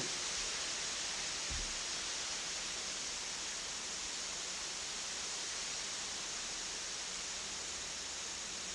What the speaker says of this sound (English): Sound of the wind, eaves of the house reverberating